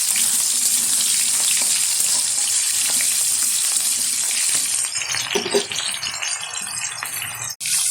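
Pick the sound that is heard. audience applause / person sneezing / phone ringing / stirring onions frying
stirring onions frying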